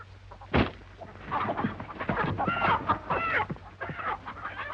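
Chickens cluck and squawk close by in a busy, overlapping run of calls, with one sharp burst near the start.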